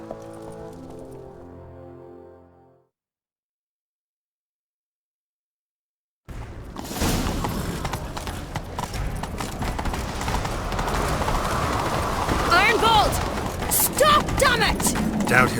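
A horse gallops in The Witcher 3, with dense, loud, continuous hoofbeats and rushing game ambience starting after a short musical passage and a few seconds of silence.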